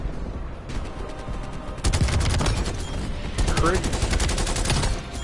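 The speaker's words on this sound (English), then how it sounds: "I'm gonna throw this up and fire my gun." Gunfire in the video game Black Ops Cold War, a loud, steady rattle of rapid shots from about two seconds on over busy game noise, with a brief spoken word near the end.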